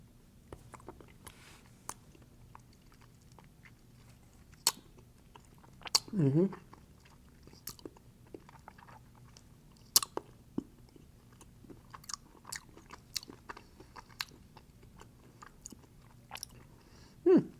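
Chewing on a Pocket Latte mocha chocolate, quiet sporadic crunches and mouth clicks close to the microphone in a hushed room.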